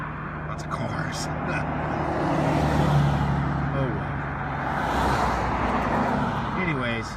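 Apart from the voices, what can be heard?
cars passing on a road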